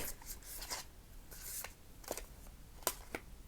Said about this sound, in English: They shuffle actually really well.